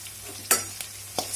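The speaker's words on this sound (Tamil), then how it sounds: "ஸோ இது வந்து இந்த எண்ணெயிலேயே பாயில் ஆகுது." Ginger frying in hot oil in a pan while making potato bonda, a steady sizzle with three sharp stirring scrapes, close up and without talk.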